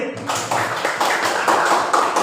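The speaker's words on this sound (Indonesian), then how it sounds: "tepuk tangan untuk Mas Adi" A classroom audience applauds a student named Mas Adi, a brief burst of clapping that starts abruptly and carries on evenly for a couple of seconds.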